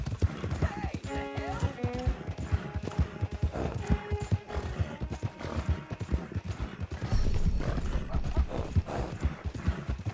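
Horse hooves clip-clopping steadily in the video game Red Dead Redemption 2, a continuous close rhythmic trot with a brief whinny and faint voices in the background.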